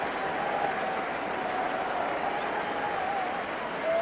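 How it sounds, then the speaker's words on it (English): A rugby union crowd at an England versus Fiji match applauds a try, producing a steady, distant wash of clapping that holds evenly throughout, with faint crowd murmur beneath. "The crowd on that side applaud."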